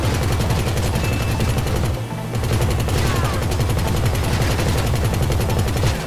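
Sustained rapid gunfire in GTA Online, dense continuous shooting aimed at car tires, loud and close with a brief dip partway through, no talk.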